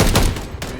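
Gunfire in the video game Call of Duty MW3: a short, loud burst of rapid shots with dense crackling blasts, heard up close and alone for under a second.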